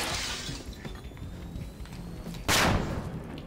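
Flashbang grenades go off in a video game amid continuous noisy gameplay; one sharp, bright bang cracks out near the end and rings on loudly for a moment.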